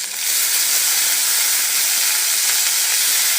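Chopped beans and carrots drop into hot oil with curry leaves, setting off an immediate loud, steady sizzling hiss that holds close and even throughout, with no talking.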